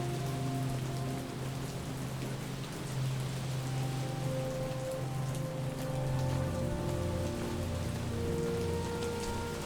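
Steady rain pattering on surfaces in a pixel art video game, a continuous even hiss with scattered drops over a low, sustained musical drone, no voices.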